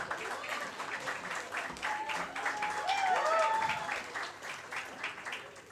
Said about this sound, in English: Please show your energy, please, with a big applause.